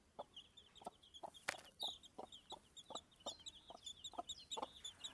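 An agitated mother hen clucks in quick, steady bursts, close and alone, each sharp cluck repeating at a brisk, uneven rhythm.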